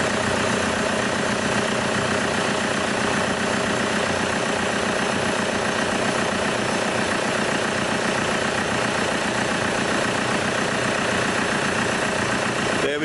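A 2010 Vauxhall Insignia 2.0 CDTI diesel engine idles steadily with a dense, even rumble and a light rhythmic diesel knock, holding constant and fairly loud throughout with no talk over it.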